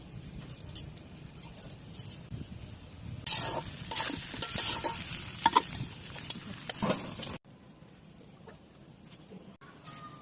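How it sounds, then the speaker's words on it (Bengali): Cut pickle pieces frying in hot oil, a sizzle with clattering stirring and scraping in the pan, close and fairly busy, fading to quieter sizzling near the end. "এখন তেলে ভেজে নেব।"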